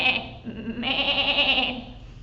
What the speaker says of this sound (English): It's actually a baby sheep, which is a lamb. And what does a lamb say?